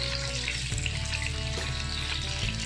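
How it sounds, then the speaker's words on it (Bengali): Eggs fry in a little oil in a pan for shahi egg korma, making a constant, close, crackling sizzle with a steady low hum underneath. "তেল দিয়ে আমি ডিমটা ভেজে নেব"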